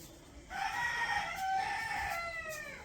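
In a Bangladeshi village, a chicken gives one drawn-out, tonal call lasting a couple of seconds, moderately close and alone over quiet background.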